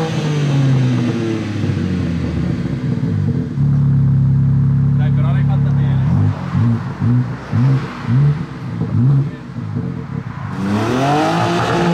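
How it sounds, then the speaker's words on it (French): A BMW M2 engine revs and drones, holding a steady loud tone before breaking into a series of choppy pulses and crackles as the revs fall, then climbing again near the end. A voice talks over parts of it. "Écoutez le bruit là. Quand ça crépite comme ça,"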